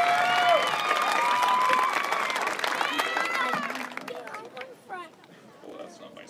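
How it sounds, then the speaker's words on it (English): A graduation ceremony audience breaks into clapping and cheering that fades out over several seconds, with excited voices and whoops mixed in and a speaker's voice returning as the noise dies down. "Go ahead and clap."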